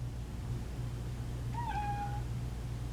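A house cat gives one clear, rising-then-falling meow at moderate distance over a low steady background hum, with no talking.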